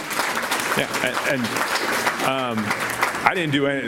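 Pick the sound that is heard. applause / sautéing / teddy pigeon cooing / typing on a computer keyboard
applause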